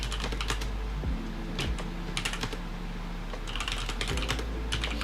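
Rapid clicking of keys on a computer keyboard at an engineering workbench, steady bursts of close, crisp taps over a low constant hum, with no talking.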